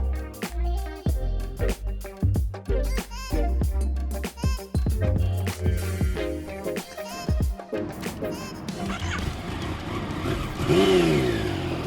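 A Yamaha MT-09 motorcycle engine revs hard while being ridden, loud and close, with repeated rising and falling throttle blips and gear changes before settling into a steadier roaring run with wind noise.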